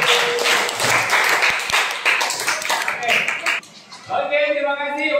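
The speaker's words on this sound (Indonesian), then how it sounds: "Oke, terima kasih, tepuk tangan untuk kelompok Alin." Short burst of applause for a student group in a classroom, scattered hand claps from a small crowd fading after a few seconds, followed by a voice speaking.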